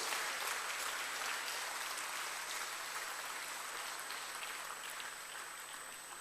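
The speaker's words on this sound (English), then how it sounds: "let's put our hands together for a better round of applause" Audience applause at an engineering society's annual awards ceremony, honoring a junior inventor of the year: steady, dense clapping from a large crowd, loud and sustained throughout, easing off only slightly toward the end.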